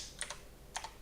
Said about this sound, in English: So now we're gonna type it in.